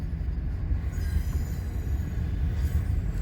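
A short Union Pacific train with heavy locomotive power rolls past on the Transcon line in Fremont, Nebraska, a loud, steady low rumble of wheels on rail that holds evenly throughout, with faint squealing above.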